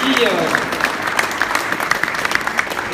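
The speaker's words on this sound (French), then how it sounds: "on peut l'applaudir très fort" Audience applause at a mayors' association New Year reception at Paris City Hall, a dense steady patter of clapping that runs the whole time, with a voice speaking over it near the start.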